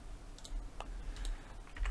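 Quick keystrokes tapped on a computer keyboard while entering a search term in a 3D modelling program, a short burst of close, light clicks with small pauses between them.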